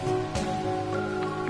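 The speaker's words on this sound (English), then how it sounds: "Yeah, look, it's raining." Rain falling in the video game SAO: Hollow Realization, a steady soft hiss of drops on surfaces with tonal game music running beneath it throughout.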